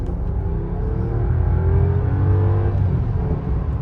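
A Rolls Royce Ghost with a twin-turbo 6.75 liter V12 accelerates from inside the cabin, a smooth, steadily building engine drone with a low rumble that swells and holds loud throughout.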